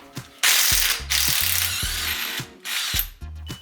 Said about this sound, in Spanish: en este caso utilizo una llave de impacto que sale más fácilmente